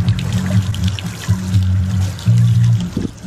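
Water pours and trickles steadily from a shower or tap as someone rinses beach water off their body, a close, continuous splashing flow with slight surges in level throughout.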